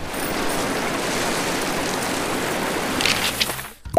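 Water dumped from buckets to imitate a waterfall makes a steady, dense rushing roar that holds level for several seconds before breaking into scattered splashes and trickles.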